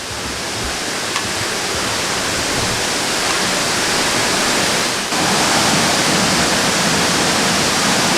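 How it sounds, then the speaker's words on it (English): A big waterfall in the North Carolina Highlands roars as a loud, unbroken broadband rush that stays constant and close throughout, with no voices over it. "This is one big waterfalls. It goes way down."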